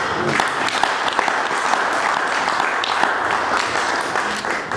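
A church congregation applauds together, a dense, steady wash of clapping filling the room for the whole stretch without pause.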